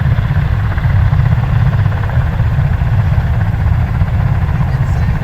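USMC V-22 Osprey tiltrotor aircraft passing near Richmond International Airport, a loud continuous low rumbling drone that holds steady throughout with no clear change, close and dominant.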